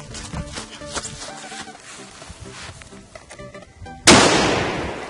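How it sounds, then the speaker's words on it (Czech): A Doom Boom firecracker, the strongest in a set of powerful pyrotechnics, goes off with one sharp, loud blast that rings out and decays after a stretch of ambient outdoor noise. "Ultimátně nejsilnější petarda ze všech."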